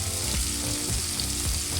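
Crushed garlic hits hot oil as tempering for Karnataka-style baingan bharta, a loud close sizzle with constant frying crackle and a few stirring scrapes.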